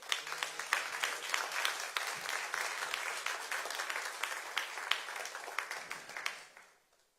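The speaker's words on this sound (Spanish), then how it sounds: "denle un aplauso a Dios" A church congregation in Brownsville, Texas breaks into lively applause, brisk clapping from many people with a few sharp nearby claps, steady for several seconds before fading out.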